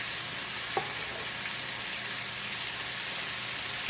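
Southern fried chicken fries in a crowded pan of hot oil, giving a dense, continuous close sizzle with a single brief clink of a utensil early on and no talking.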